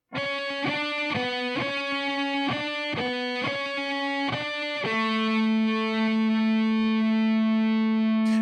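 A distorted electric guitar plays a solo phrase: quick repeated notes for about five seconds, then one long note that rings out. It sounds loud and close, with no voices.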